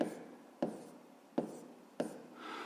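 Pen writing in a notebook during a fifth-grade maths exercise, with four distinct scratchy strokes starting sharply and trailing off, close and fairly quiet, no talking.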